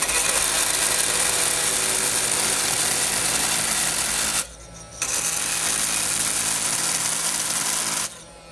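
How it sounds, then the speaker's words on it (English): A Makita Starlock oscillating multi-tool at its lowest speed of 10,000 RPM cuts through a nail, giving a loud, steady buzzing drone with two brief drops, around halfway and near the end, as the blade eases off. "Shall we try it anyway, the nail test, just to see how much it's going to murder the teeth on these things?"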